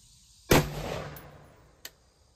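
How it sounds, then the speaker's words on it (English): A single loud gunshot from a short-barrel AR-15 firing 5.56 55 grain ammunition cracks sharply and decays over about a second, with a fainter secondary report shortly after and quiet before and after. "I forgot how loud this gun is."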